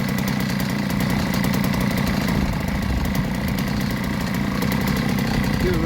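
A 52cc rotary tiller's small engine runs continuously at a steady, rattling idle, loud and close throughout with a constant buzzing drone.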